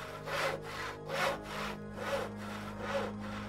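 Arrows being sharpened in the Odyssee game: five steady, evenly spaced rasping strokes like wood being sawn or rubbed, close and fairly quiet, with no talk.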